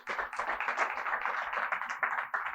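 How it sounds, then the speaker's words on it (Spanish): Congregation clapping during a Spanish-language church sermon, a fairly close burst of rhythmic, uneven hand claps from a modest group, continuous for a couple of seconds without speech. "Dale un fuerte aplauso al Señor"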